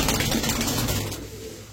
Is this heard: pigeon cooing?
yes